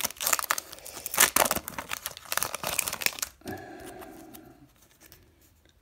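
Foil Pokémon booster pack from Sun and Moon Crimson Invasion ripped open by hand, a burst of loud crinkling and tearing that settles into softer rustling of the wrapper near the mic.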